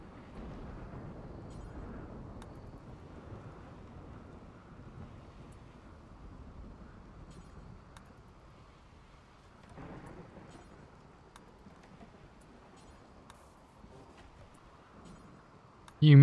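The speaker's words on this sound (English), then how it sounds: "this storm is a bit brutal" A thunderstorm in the video game Rimworld, with a steady low roar of rain and wind and distant rumbling thunder running throughout, loudest early and easing slightly, ending with a short sharp burst.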